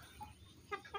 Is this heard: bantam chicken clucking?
yes